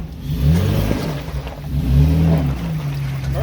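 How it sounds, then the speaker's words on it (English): An off-road vehicle's engine revs up and down as it crawls over rocks near waterfalls and mud in Kingman, Arizona, with two rising and falling swells of engine drone. "Drive through it."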